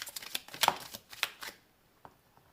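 Tarot cards shuffled and drawn, a quick run of crisp papery riffles and flicks followed by a couple of softer isolated card snaps, close and clear with no talking.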